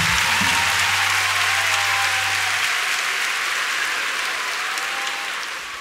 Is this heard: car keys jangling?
no